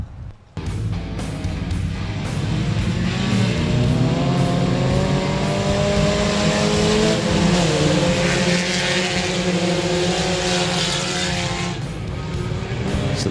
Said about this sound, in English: Four-cylinder main event underway here at 67 Speedway